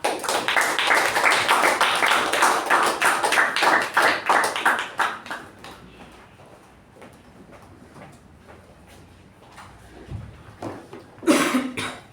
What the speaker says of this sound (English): With a huge round of applause, let's welcome our Toastmaster of the day